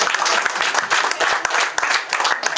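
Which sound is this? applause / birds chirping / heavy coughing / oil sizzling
applause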